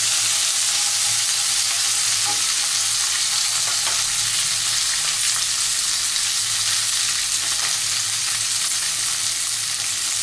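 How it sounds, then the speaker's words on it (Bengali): Flat beans fry in a pan in a dense, constant hiss of hot oil, close and loud, with faint stirring taps now and then. "একটু ভাজতে হবে।"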